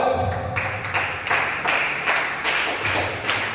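A congregation in a Tamil church service claps hands together in a steady rhythm of sharp, loud claps, roughly two to three per second, with no voices over it.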